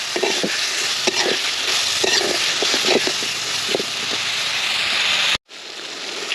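Ginger-garlic spice paste sautés in a pan with a dense continuous sizzle and scraping stir strokes, then cuts off sharply near the end as the sound drops to faint hiss.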